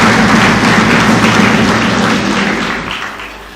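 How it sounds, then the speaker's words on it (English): An audience applauds the protocol team at a regional judiciary symposium, a dense wash of clapping that slowly fades over a few seconds. "Please let us give them a round of applause."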